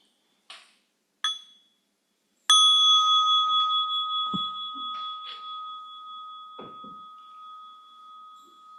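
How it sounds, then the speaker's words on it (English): A mindfulness bell is rung during a meditation session. Two light taps come first, then one clear strike that rings out in a long, pure tone and slowly fades over several seconds in a quiet room. "So with the first bell, massaging your body in preparation for standing."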